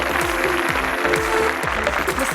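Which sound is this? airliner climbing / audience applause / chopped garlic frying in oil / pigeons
audience applause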